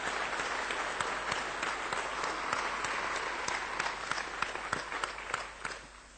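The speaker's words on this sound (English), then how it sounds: "So I think perhaps a round of applause for you and all the hackers is appropriate for that." An audience at a Thursday keynote talk gives a steady round of applause for hackers. Dense clapping runs evenly through the whole stretch, with individual sharp claps standing out, then tapers at the end.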